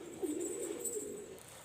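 A golden female pigeon gives a soft, close cooing call, a low warbling rumble that swells briefly and fades, alone with no voices.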